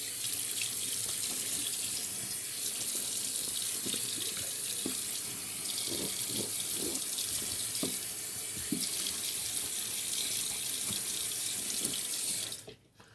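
Tap water runs steadily into a sink to rinse a shaving razor, a Gillette Ranger Tech 1941, with a constant close splashing stream and a few clunks of the razor being handled, before the flow stops abruptly at the end.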